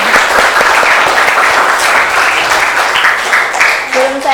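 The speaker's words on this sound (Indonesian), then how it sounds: "mari kita beri apresiasi ke diri kita masing-masing dengan menepukkan tepuk tangan dulu." A school class claps hands together in sustained, dense applause lasting a few seconds, loud and close, with some voices mixed in near the end.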